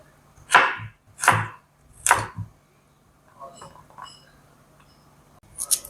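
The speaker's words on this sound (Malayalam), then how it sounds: "മാങ്ങ അരിയുന്ന പോലെ തന്നെ ചെറിയ കഷ്ണങ്ങളായിട്ട് നമുക്ക് അരിയാം കേട്ടോ." Knife chopping slightly mature hog plums (ambazhanga) into small pieces on a board for pickle: three loud, evenly spaced chops, then quieter scattered cuts and handling sounds, with a faint voice in the background.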